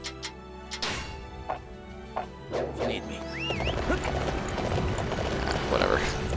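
Horse hooves clip-clopping in the Dynasty Warriors 9 video game, a few sharp spaced hoof hits at first that give way to denser galloping steps over game sounds and music, with a voice talking now and then.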